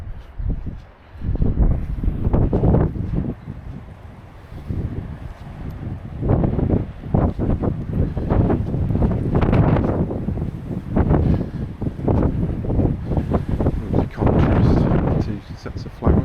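Wind gusts along a hedgerow corridor at Hartland Point, buffeting the microphone in loud, uneven low roars with brief lulls, close and continuous throughout.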